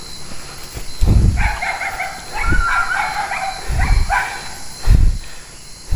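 A dog in a remote mountain area gives several deep barks at a moderate distance, with a whimpering, yipping tone between them, over a steady outdoor hiss.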